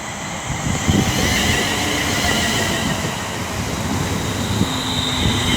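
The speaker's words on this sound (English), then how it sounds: "now coming in is going to be the 1356 London Northwestern Railway service to Northampton from London Euston" A London Northwestern Railway service to Northampton from London Euston pulls into Milton Keynes Central on the West Coast Main Line, a steady close rumble of wheels and running gear with faint squeals, no voices over it.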